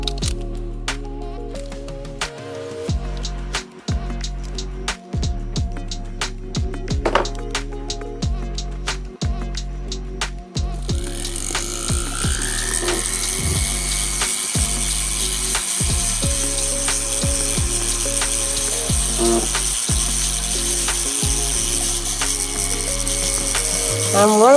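A tool smooths the prongs of a ring with rough intermittent scraping, over a repeating mechanical thump pattern; a steady high-pitched whine joins partway through and continues.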